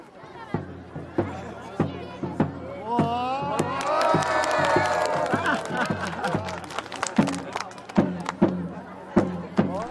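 A crowd of onlookers in Tibet cheers and shouts encouragement as a foreigner attempts the Lamo dance, lively voices swelling in the middle over a steady beat of loud rhythmic claps or drum hits.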